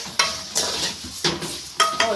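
Vinegar splashes into a hot pot for Egyptian koshari and hisses in sharp sizzling bursts, with stirring and scraping sounds between them, close and loud.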